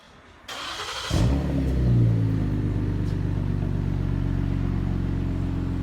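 A 2015 Ford Taurus SHO with its mufflers deleted starts up and revs, a loud, raw exhaust roar that swells after a second and then holds as a steady, deep drone close by.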